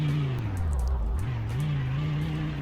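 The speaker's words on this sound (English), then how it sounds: "And then a rev test right here." In the Roblox game Greenville, an unreleased limited car's engine is revved, its pitch dipping, climbing sharply, then holding at a steady higher drone, loud and close, with no talking.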